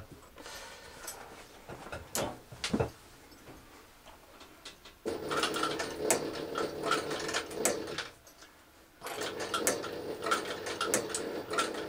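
A leather sewing machine with a new motor stitches around a seam on a tool roll, a steady mechanical chatter in two sustained runs separated by brief pauses, with scattered clicks and handling noises before.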